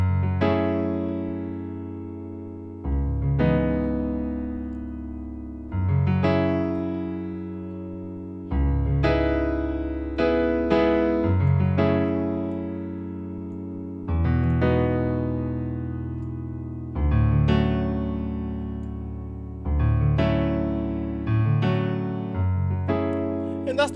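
Piano playing a looping chord pattern, steady repeated chords struck every few seconds and left to ring, clear and alone with no talk.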